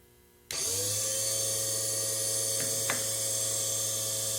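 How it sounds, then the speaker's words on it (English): A Model 09-P point splitter motor switches on abruptly and runs as a loud, steady whining hum while a drill point is fed against the grinding wheel, with faint brief contact scrapes and no voices. "first we're going to turn on the motor and we're going to start infeeding while sweeping past the wheel"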